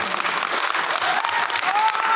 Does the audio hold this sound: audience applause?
yes